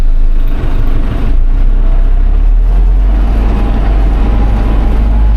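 A tractor labors across rough, slippery ground, its engine a heavy, constant low rumble heard close and loud throughout, with slight lurches in the drone and no voices.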